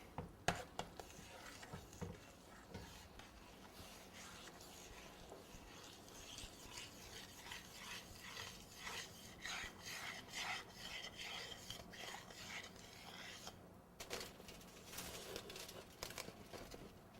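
A spoon stirs royal icing mixture in a bowl so it starts to foam, a soft continuous scraping and rasping, close and faint, with small rhythmic swells.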